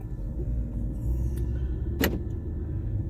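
A Jaguar XF is shifted from park to drive. A low idling rumble runs throughout, and a single sharp click comes partway through.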